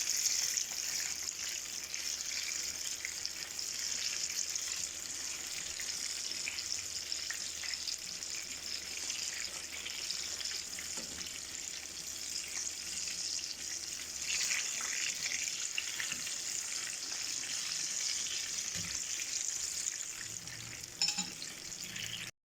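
Pakoras fry in a pan of hot oil, giving a continuous close sizzle and bubbling hiss that holds steady for over twenty seconds, with faint stirring clinks along the way.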